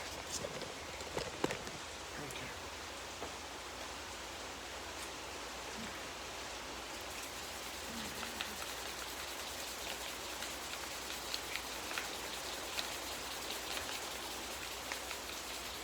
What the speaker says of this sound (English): Pouring rain out.